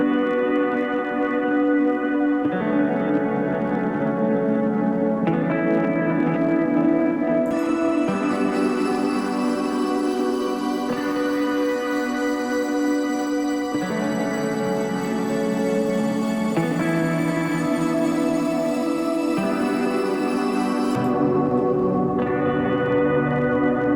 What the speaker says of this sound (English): Sub shimmer, so instead of having the pitched reverb, you've got a pitched up reverb, you've got the reverb pitched down.